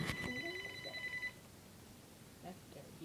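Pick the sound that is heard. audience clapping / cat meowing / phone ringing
phone ringing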